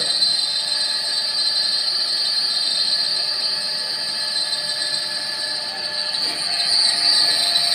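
A three-phase induction motor runs under added load during a direct loading test, giving a steady, continuous whine with strong high tones and a broad hum that holds nearly constant throughout, close and fairly loud with no talking.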